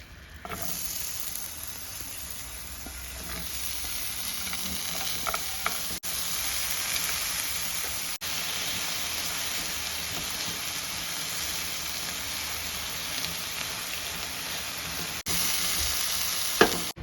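Vegetables frying in browned, caramelized sugar syrup for Afghani biryani, a steady bright sizzle that holds for many seconds, with a few faint clicks of stirring and no voices.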